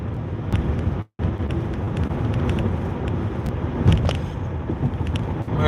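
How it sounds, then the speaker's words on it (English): A car cruises a Houston road at 40 mph with steady road rumble and wind noise inside the cabin, continuous and moderately loud, with one brief dropout. "We're driving at this point 40 miles per hour now."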